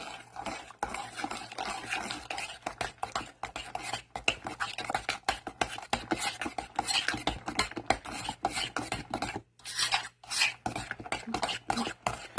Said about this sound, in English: we're gonna slowly add in our evaporated milk as well. So we'll just add a little bit at a time. And we'll mix this in